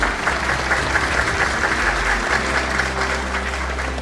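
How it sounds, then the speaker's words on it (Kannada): An audience applauds BY Vijayendra as he is welcomed onto the stage at a Karnataka No.1 programme: steady, full-bodied clapping from many hands, even in volume and with no talk, across the whole span. "ನಿಮ್ಮೆಲ್ಲರ ಪ್ರೀತಿಯ ಚಪ್ಪಾಳೆಯೊಂದಿಗೆ ನಮ್ಮ ಕರ್ನಾಟಕ ನಂಬರ್ 1 ಕಾರ್ಯಕ್ರಮಕ್ಕೆ ಪ್ರೀತಿಯ ಸ್ವಾಗತ BY ವಿಜಯೇಂದ್ರ ಅವರಿಗೆ"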